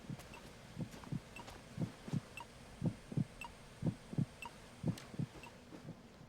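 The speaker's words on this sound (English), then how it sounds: "Could have been more specific about an irregular heartbeat." A slow, muffled heartbeat thumps in steady lub-dub pairs over a low electronic hum in the stealth video game Metal Gear Solid 2: Sons of Liberty, about a dozen soft beats with the second of each pair close behind.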